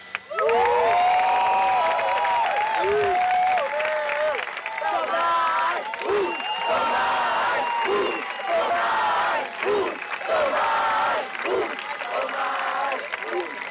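Audience applause and crowd noise rise and fall beneath a person speaking Portuguese, the clapping filling the background throughout.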